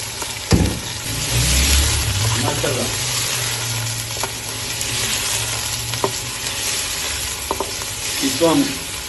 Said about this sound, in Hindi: इसमें अब चिकन फ्राई कर लेंगे